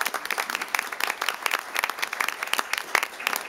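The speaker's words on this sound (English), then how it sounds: "One more big round of applause for these three new hires." Applause fills a city council meeting as the room claps for three new police hires, a dense, steady patter of many hands at moderate distance for several seconds.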